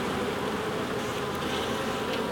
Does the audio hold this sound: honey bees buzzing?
yes